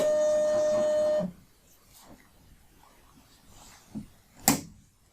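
A label printer runs a barcode sticker with a steady whirring drone for just over a second, then stops; faint clicks and a sharper snap follow near the end in a quiet room.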